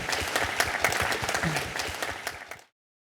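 A studio audience at a televised live current-affairs discussion show in Mississauga, Ontario breaks into steady applause, a dense wash of many hands clapping at close range that holds for over two seconds before cutting off abruptly.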